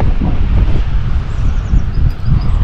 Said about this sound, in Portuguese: Tem bastante vento aqui, galera.